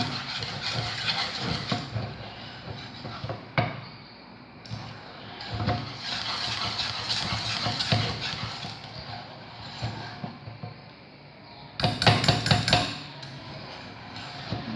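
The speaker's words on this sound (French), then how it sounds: "J'essaye de la décoller de la casserole." Harsh, continuous scraping of a utensil against a metal saucepan, prying off homemade glue, with bursts of rasping and a louder clatter near the end.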